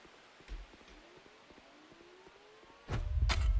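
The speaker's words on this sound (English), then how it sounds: "Siren's going, we got 1 minute." In the video game Volcanoids, a warning siren winds upward steadily in the background, then a loud rumbling burst of noise takes over near the end.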